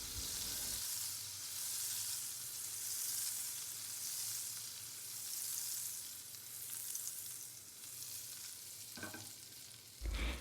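Butter melts in a pan with a soft, steady sizzle that runs continuously at low volume, with a faint clink near the end.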